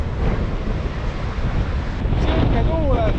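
Strong wind blowing outdoors on a day out in the Canary Islands, a loud steady roar buffeting the microphone, with a faint voice underneath.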